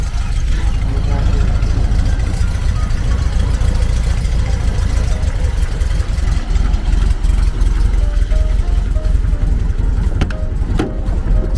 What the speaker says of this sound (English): that's a big motor